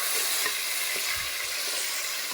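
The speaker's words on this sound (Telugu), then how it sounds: "కేజీ మటన్ ఇది. ఇప్పుడు వేసుకుందాం, కలుపుకోవాలా." A kilogram of mutton with turmeric and ginger going into a hot cooking pan and being mixed, giving a steady close sizzle with a few soft thuds and stirring scrapes, no talking.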